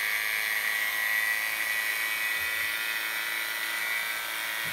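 A Navac 4cfm vacuum pump drones steadily with a high, smooth motor whine that stays loud and even throughout, running alone with no voices.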